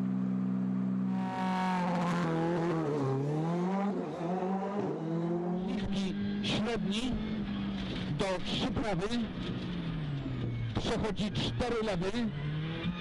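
A Ford Fiesta R5 rally car revs at the start of a day-two stage of the Circuit of Ireland rally, its engine pitch rising and falling under steady talk, with sharp bursts of noise later.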